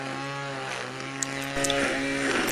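A WORX 20V cordless string trimmer (WG163E.3) runs steadily with a high, tonal motor whine and a buzzing line, fairly loud and close, the pitch shifting slightly as it cuts.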